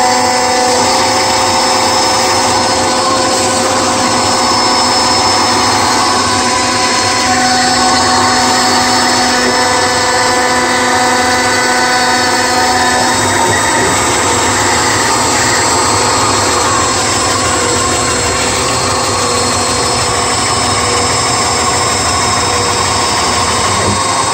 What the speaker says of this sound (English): This is the last pass. That'll be the fretboard pocket done.